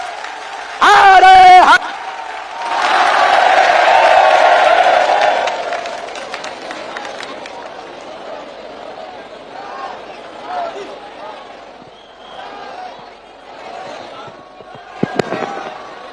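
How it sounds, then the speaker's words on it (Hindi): Loud applause and cheering from a large crowd welcoming a minister at a Bageshwar Dham gathering in Madhya Pradesh, swelling for a few seconds after a brief shout, then fading into scattered noise with a sharp bang near the end. "पीछे तक हम सब जोरदार ताली बजा करके आपका"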